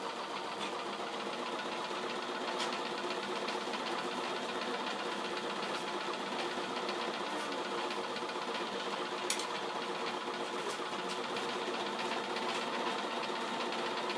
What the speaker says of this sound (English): We're going to go to the other corner of our bag, keeping it 5/8 inch, sewing nice.